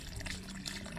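Water poured onto a kamias tree in a home garden makes a brief, soft splashing trickle, quiet and close, with no talk.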